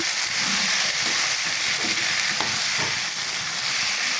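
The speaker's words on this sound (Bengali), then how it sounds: "এবার আলুটাকে আমি কষিয়ে নেব" Boiled potatoes sautéing in hot oil in a pan give a continuous close sizzle and hiss, with soft scraping stirs now and then beneath the steady frying.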